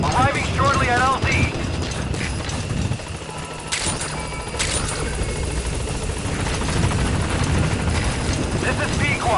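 A helicopter in Metal Gear Solid V arrives at a landing zone, its rotor churn steady and loud throughout, with mechanical clanks and brief game effects layered over it.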